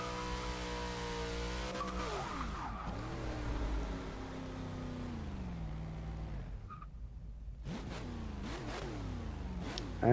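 A Monte Carlo Supersport drifts in the racing game Forza Motorsport 6, its engine revving up and down in long sweeping pitch glides with tire squeal, steady and close, and no talk.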